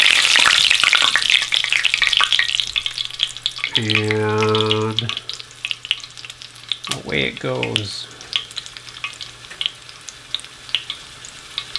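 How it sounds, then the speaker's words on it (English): Wet Jerusalem artichokes drop into hot fat in a small pan and deep-fry with loud, continuous sizzling and bubbling, with a brief spoken remark and some stirring or water sounds partway through. "I don't have so much fat to spare that I'm going to fill a big pot with it for deep frying"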